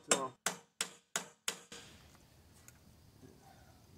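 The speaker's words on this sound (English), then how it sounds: "I'm going to tap it around and see if it'll move" Five sharp, evenly spaced hammer taps on a part of a Cub Cadet 2166 mower, ringing briefly and loudly up close, then quiet room tone with no talking.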